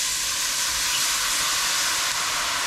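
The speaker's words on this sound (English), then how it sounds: "now we are going to add the wine to the pot" Wine poured into a hot pot for one-pot harissa chicken hisses and sizzles loudly and steadily, a dense continuous spitting with no pauses and no voices.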